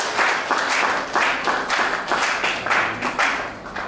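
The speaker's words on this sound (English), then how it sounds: "Thank you for clapping for me" An audience at a reception at the UK Embassy claps steadily for Nigeria's ambassador, a dense, sustained round of applause in the room with no talking over it.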